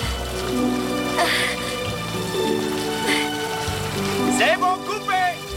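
Artificial rain falls on a film set as a steady hissing patter under swelling orchestral music, with brief voices near the end.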